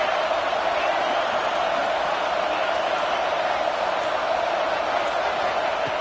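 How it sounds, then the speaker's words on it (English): Steady, dense crowd roar from a home crowd at a college football video game stadium, continuous and fairly loud throughout with no clear peaks. "this home crowd is fired up and ready to make a difference"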